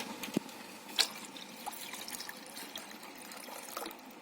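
Water is poured into a drink mixture in a home kitchen, a faint, quiet trickle with a few small splashes and drips, heard alone without talk.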